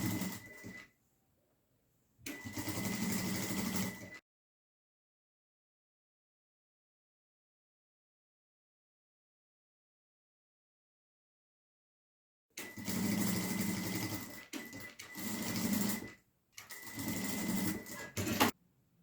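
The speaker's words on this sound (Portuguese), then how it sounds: "Faz uma costurinha reforçada aqui na parte de cima, com 2 retrocessos." Close sewing machine stitching a reinforced seam on a crossbody bag lining, running in short buzzing bursts with brief stops for backstitches, separated by a long silent gap, with no talking.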